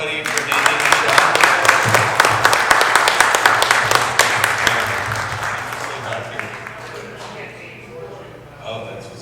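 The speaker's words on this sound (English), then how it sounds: "Big round of applause, everybody, for naming Michelle." Audience applause at a horror film Q&A screening, dense clapping that swells loud early then gradually tapers off, with voices murmuring beneath it.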